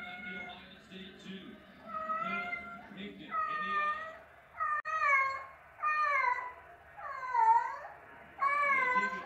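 A kitty meows over and over in a long string of rising and falling calls, close by and steady, while a football game broadcast and a voice murmur faintly underneath.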